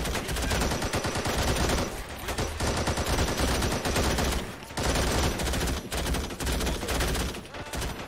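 Gunfire in the Call to Arms war game, set around an Afghan village, with bursts of rapid shots and machine-gun fire that stay loud and dense, broken by a few brief lulls.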